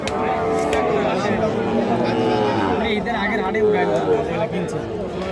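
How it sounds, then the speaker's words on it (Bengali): Sahiwal cattle mooing at a busy livestock market, several long, loud, nearby lowing calls over a constant crowd hubbub with people talking. "দর্শক, আমরা এই যে এখানে বেশ কিছু গরু দেখতেছি, আমাদের রিয়াদ ভাইয়ের গরু।"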